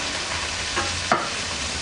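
Garlic fries in hot oil with a steady, soft sizzle and faint crackle, while a couple of brief stirring scrapes break through.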